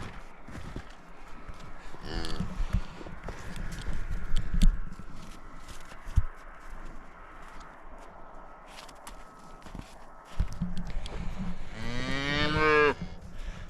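Cattle moo on a farm as a mother cow and an abandoned calf call out; a drawn-out low moo comes around two seconds and a louder, rising bellow near the end, with faint hoof steps and rustling in between.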